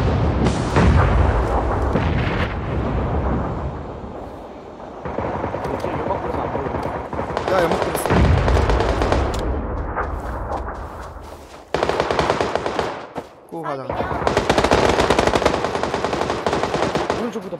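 Rapid bursts of automatic gunfire and single shots crack through a PUBG battle-royale match on the Sanhok map, loud and close, with players talking over the shooting.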